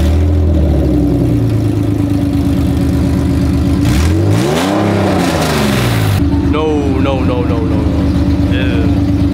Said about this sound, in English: you revving it did not sound good at all